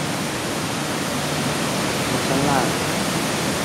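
The lowest tier of Kaeng Sopha waterfall roars in a dense, steady rush of falling water close by, with someone speaking briefly over it.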